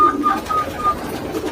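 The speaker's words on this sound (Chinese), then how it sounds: "我刚刚准备上来喂鸽子，发现一只呢" An injured racing pigeon with a broken wing coos loudly and close by, giving a few low throaty calls over a steady background hum.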